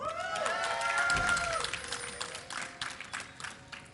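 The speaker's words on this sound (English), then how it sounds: "Let me hear you guys cheer for Dignitas." A live esports crowd at the IPL 3 League of Legends grand finals cheers for Team Dignitas, a loud, steady roar that swells and then breaks into scattered shouts and claps under a fading tonal sound.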